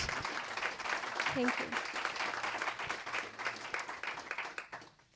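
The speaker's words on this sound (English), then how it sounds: "I think they deserve a round of applause, if you agree" Conference audience applauding a panel at a livestock-sector event, dense clapping across a hall that slowly fades away, with a brief spoken voice over it.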